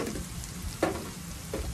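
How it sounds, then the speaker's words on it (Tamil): Anchovies fry in a pan and are stirred now and then, a soft continuous sizzle with a few brief scraping strokes of the spoon. "இது அப்பப்போ கிண்டி விட்டுக்கிட்டே இருங்க."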